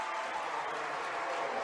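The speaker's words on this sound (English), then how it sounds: "Listen to Friedrich Arena go haywire." Basketball arena crowd at Friedrich Arena roaring after a big made shot in a Concordia versus Hastings men's game, a dense, steady wash of cheering and applause throughout.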